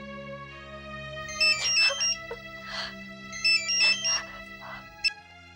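A phone ringtone chimes in two repeated bursts of bright electronic tones over a low steady hum, with no one speaking.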